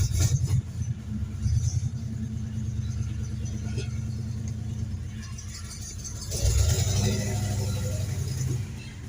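A 1973 Cadillac engine turning over and settling into a deep, steady idle rumble, close by, with a surge in revs partway through.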